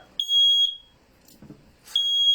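A smoke alarm goes off indoors with two loud, piercing electronic beeps. A short gap with faint murmuring separates them.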